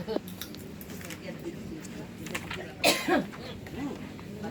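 People in a Quran study gathering cough, with one or two short, harsh coughs standing out near the middle over quiet background talk and room noise.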